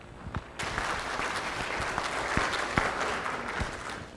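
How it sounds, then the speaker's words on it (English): Conference audience applauding a keynote speaker named Raghav at STC 2016, a few early claps quickly building into full, sustained clapping from a sizeable crowd with occasional louder claps close by. "a big round of applause for Raghav"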